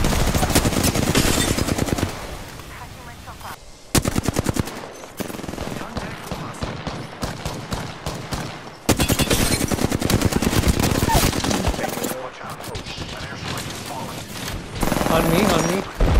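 Flatline assault rifle firing in the Apex Legends video game, long rapid automatic bursts with short pauses between them, loud and close, with voices talking over the shooting at times.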